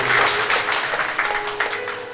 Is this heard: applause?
yes